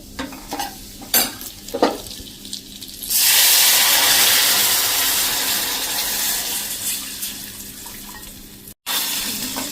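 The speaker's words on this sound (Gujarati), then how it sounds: "આ વઘારમાં આપણે થોડું એવું પાણી નાખી દેશું" Water poured into a sizzling vaghar of spices and Kashmiri red chilli for Bhavnagar-style dal puri: soft stirring clicks first, then a sudden loud hiss and burst of steam that slowly fades, continuous and close.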